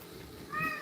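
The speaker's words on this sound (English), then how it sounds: "I hear you meowing" A cat gives a single short, faint meow indoors, rising briefly after a quiet moment.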